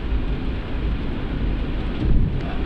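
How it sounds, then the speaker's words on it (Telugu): Rain falls steadily with a low rumble of thunder beneath it, a dense wash of sound that swells slightly near the end, with no one talking. "ఈ మధ్యలో వాన వచ్చింది."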